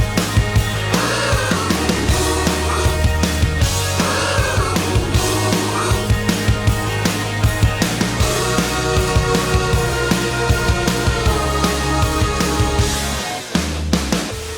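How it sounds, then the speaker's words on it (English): Layered background vocals treated with sharp and flat tuned copies for a warm chorus effect, sung continuously over a full, loud music mix with steady rhythmic beats. "In the end, what we get is a really natural, nice, warm sounding, chorusy sound"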